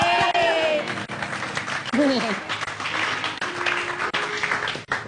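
Studio audience applause on an Indonesian TV talk show, clapping and cheering mixed with a host's voice and musical tones over a loud, busy room.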